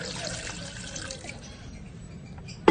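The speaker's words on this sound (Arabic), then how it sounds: "دابا غندير نزيد شوية د الماء" Water is poured into a pot of Moroccan meat and prune stew, a soft splashing, running-liquid sound that fades gradually before a brief sharp knock at the end.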